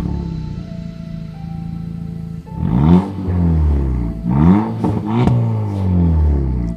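Skoda Octavia exhaust with the muffler resonator removed: a steady idle rumble, then a loud, close rev that rises and falls, followed by two more sharp throttle blips and a settling drone.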